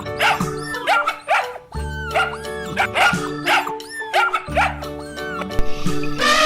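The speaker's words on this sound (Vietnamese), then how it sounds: "Con chó con." A puppy barks and yips repeatedly in quick high-pitched bursts, close and clear with short gaps between calls.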